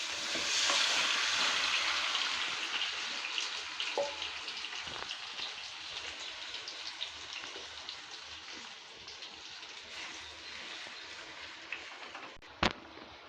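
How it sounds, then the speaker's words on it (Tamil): Chopped tomatoes fry in sesame oil for tomato pickle, a loud hissing sizzle right from the start that gradually settles, with occasional stirring scrapes and one sharp clink near the end. "சிம்மில் வச்சுட்டு இந்த கட் பண்ணி வச்சுருக்கிற தக்காளியை போட்டுக்கலாம்"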